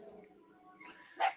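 A dog gives a single short bark near the end, fairly close, after a low murmur of background sound.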